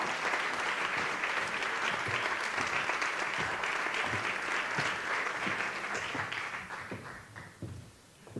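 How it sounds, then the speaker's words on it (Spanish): Audience applause at the CRIS 2021 awards gala, a dense sustained clapping from a large crowd that holds steady for several seconds, then fades and thins toward the end. "Un fuerte aplauso para ellas y muchas gracias"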